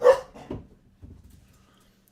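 A pet dog gives a few short barks or yips, loudest at the start and then a softer second and third burst, close by indoors, with a brief spoken word.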